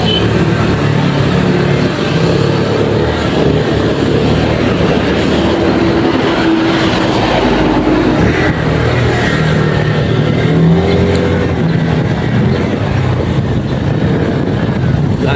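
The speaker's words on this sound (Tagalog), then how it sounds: "Road test natin dito sa may manubak." A Euro Griffin 180i motorcycle with a repacked rear shock riding over a rough, bumpy road, a loud, steady rumble of engine and wind with rattling jolts throughout.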